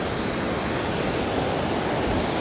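Ocean waves surge and wash onto Torrey Pines beach in Del Mar, San Diego, a steady, full broadband roar of nearby surf with no pauses and no voices.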